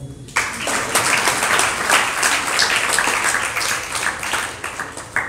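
Audience clapping during a Jain religious discourse, breaking out abruptly after a brief quiet moment and continuing as steady, fairly loud applause from a seated crowd before easing slightly at the close.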